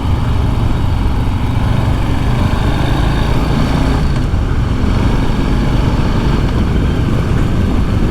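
A Harley-Davidson Street Bob 114 motorcycle being ridden, a loud continuous engine rumble with wind roar, steady throughout and no talking.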